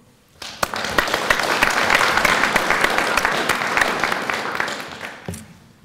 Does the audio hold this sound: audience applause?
yes